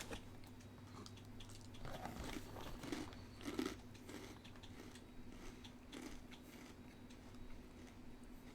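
Dry Kellogg's Little Mermaid cereal crunched close up in the mouth, with faint, irregular crisp bites and chewing over a low background hum.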